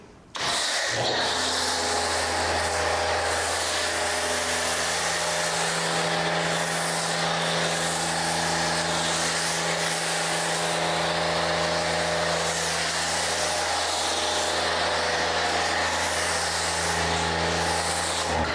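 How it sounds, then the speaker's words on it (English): A foam sprayer coating a Volvo XC90 during a wash: a loud, continuous pressurized hiss with a low mechanical hum that starts abruptly and holds steady without a break. "We're going to add more foam to give us more lubrication."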